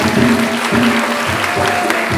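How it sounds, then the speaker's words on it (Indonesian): Audience applause at a dramatic reading performance, a broad wash of clapping that holds steady for the whole stretch. Soft low thumps recur at regular intervals underneath, and no one speaks. "Boleh tepuk tangan sekali lagi kawan-kawan."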